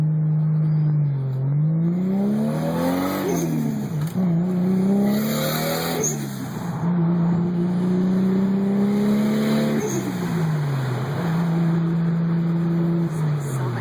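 A single-turbo Toyota Supra engine revs loudly from inside the car on a drive, its pitch rising and falling through repeated pulls with a whining turbo note over the strained engine tone.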